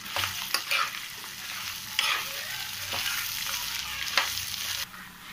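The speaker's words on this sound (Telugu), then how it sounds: "వెల్లుల్లి వేసుకొని వేయించుకుందాం." Ginger pieces and garlic frying in oil over a medium flame for ginger pickle, a steady close sizzle with spatula stirring scrapes and taps throughout.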